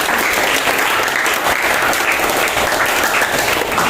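Classroom applause at a teacher-training lesson: loud, dense clapping from a group of students, sustained and even across the whole stretch with no talk standing out.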